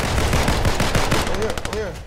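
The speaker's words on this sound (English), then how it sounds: "who else is shooting over here?" Rapid bursts of gunfire in the video game Fortnite rattle close and loud in quick repeated volleys, with a few electronic tones near the end.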